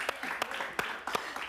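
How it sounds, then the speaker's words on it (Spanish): Studio audience applause for Venezuelan actress Norkys Batista during a talk show interview, a brief patter of scattered claps, fairly faint and thin, with a few sharper individual hand claps. "Pero un aplauso para Norky."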